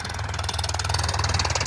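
A tractor engine runs steadily with a loud, continuous chugging throb and an even pulsing rhythm as the tractor arrives, close by and with no talk over it.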